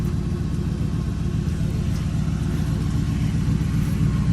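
A car engine with a straight-pipe exhaust runs steadily in a loud, continuous, deep rumble at close range, a fixed idle with no revs and no voices.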